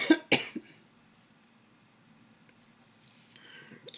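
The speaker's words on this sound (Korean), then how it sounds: "기침이 좀 났어도" A person coughs sharply two or three times close to the microphone, then a quiet room with faint background hum.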